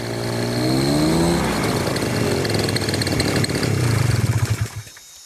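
A backpack motor engine powering a manoeuvrable hot-air balloon runs loud and close, a buzzing drone whose pitch swoops up and down before cutting off abruptly near the end, with no talk.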